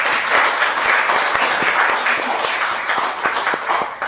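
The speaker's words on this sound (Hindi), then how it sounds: "जोरदार तालियां पूरी कास्ट के लिए" Audience applause for the cast of a show at an interview event, a dense steady patter of many hands clapping close and loud throughout, with no talk over it.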